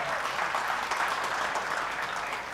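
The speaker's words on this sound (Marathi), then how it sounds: "वाजवायचे तर वाजवा छान छान वाजवा बरं टाळ्या" An audience at a TV channel launch event bursts into sustained, dense applause that holds steady throughout, loud and even, with no talking over it.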